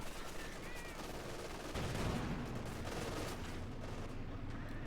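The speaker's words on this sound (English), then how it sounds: "Panther moving aggressively with pin up machine guns engaging the mortar crew." Distant machine gun fire from a German Panther tank engaging a mortar crew in Company of Heroes 2, rattling bursts mixed into a dense battlefield din of shots and rumbling throughout.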